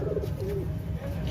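Pigeons cooing at a large pigeon market at Data Darbar in Lahore, a steady low warbling coo rising and falling over crowded market background.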